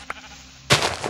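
Sheep bleating in the Minecraft video game, a single short bleat arriving suddenly after a near-silent pause with a faint click, fairly loud and close, heard alone.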